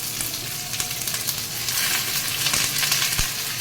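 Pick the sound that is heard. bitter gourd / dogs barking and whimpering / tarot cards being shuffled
bitter gourd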